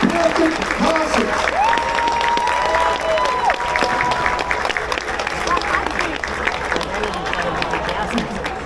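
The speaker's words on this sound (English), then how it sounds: "give that very loud round of applause" Crowd applause and scattered cheering at an outdoor winter festival event, steady and fairly loud throughout, with announcer-style amplified voices and crowd chatter mixed in underneath.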